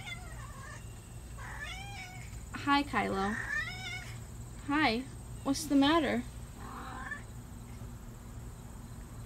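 Several cat meows with rising and falling pitch come close and fairly loud, mixed with a person talking softly to the cats indoors over a steady background hum.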